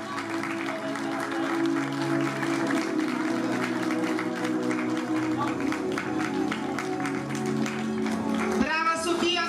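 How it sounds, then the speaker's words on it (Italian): An audience at a beauty pageant applauds steadily and warmly throughout, a dense wash of clapping, with a voice speaking as it ends. "vai Sofia, un applauso grandissimo."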